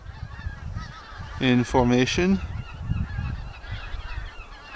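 Pink-footed geese honk in flight formation, a burst of several clear, layered calls rising over a brief murmur of speech before fading into background noise.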